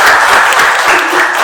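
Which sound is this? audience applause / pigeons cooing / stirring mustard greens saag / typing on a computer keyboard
audience applause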